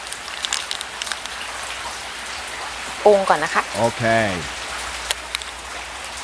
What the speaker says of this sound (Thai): ฝนตกทุกครั้งเลยนะคะ แต่วันนี้นะคะ หนักกว่าทุกครั้ง ไม่รู้ว่าพายุอะไรนะคะ